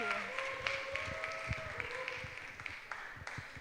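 A young adults' church service congregation gives scattered, fairly faint applause as a team leader comes forward, while a voice and some tonal background sound linger underneath the claps.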